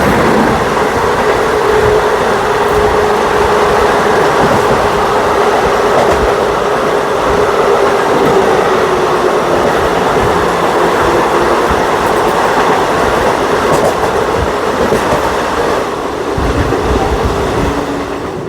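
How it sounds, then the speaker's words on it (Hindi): The Salasar Express rolls on through the desert as the Sabarmati Ashram Express (12915) passes in the other direction, a loud, steady rumble with clattering wheels and rushing wind that lasts the whole time, with no voices. "सामने से आ रही है 12915 साबरमती बीजी दिल्ली जंक्शन आश्रम एक्सप्रेस"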